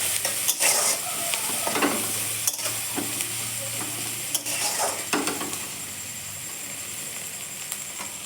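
Spices of salt, turmeric and chili powder fry in a pan while being stirred, a loud steady sizzle broken by repeated scrapes and knocks of the spoon, with no talking.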